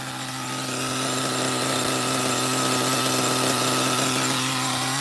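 A re-pinched Kyosho GT1 nitro RC car engine idles steadily, a loud, buzzing, high-pitched drone that holds an even rough tone throughout without revving, close up and with no one talking.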